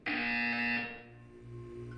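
A loud electronic buzzer blares in the game Portal, one harsh tone lasting under a second before fading into a low, humming background.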